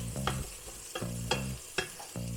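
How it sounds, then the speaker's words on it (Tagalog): Garlic sautéing in a pan for sizzling pork sinigang: a steady sizzle with four or five sharp spatula scrapes at an uneven pace, close and clear over a low tonal background. "Lagay ko ng garlic mga cravers kasi igisa natin to eh."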